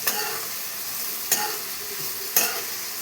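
Curry leaves, cumin and mustard seeds frying in hot oil, a close continuous crackling sizzle broken by three sharp spoon scrapes at roughly one-second intervals, no talk.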